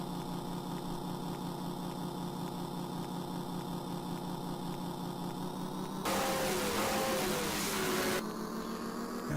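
A steady, droning engine hum from the Continental Circus racing game on the Commodore Amiga holds at constant pitch, quiet and continuous, with a sudden hiss of noise bursting in near the end before the drone resumes.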